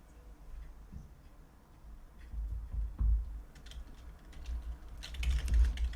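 Fingers type names into an Excel spreadsheet on a computer keyboard, giving a close run of irregular light key clicks and taps with busier bursts toward the end, with no voices.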